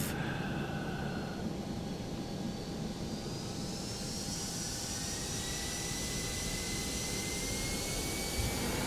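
Simulated twin jet engines of a ToLiSs A320ceo in X-Plane 12 roar steadily during takeoff from Manila, with a whining tone that rises as the engines spool up under a constant broadband rumble.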